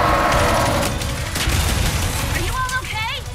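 Weapon fire aimed at monitors during the Emperor Nefarious fight in Ratchet and Clank: Rift Apart, a loud continuous barrage of blasts with electronic whines and warbling tones near the end.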